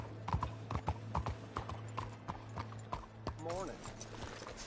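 Horse hooves clip-clop steadily in Red Dead Redemption 2, a regular trotting beat close by, with brief speech between the steps and a short whinny near the end.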